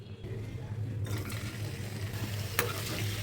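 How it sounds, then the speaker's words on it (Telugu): Paneer pieces frying in hot oil in a kadai for paneer butter masala, a steady broadband sizzle that brightens after the first second, with a low hum beneath and one sharp clink near the end. "ఇప్పుడు పన్నీర్ ముక్కల్ని యాడ్ చేసుకోవాలి"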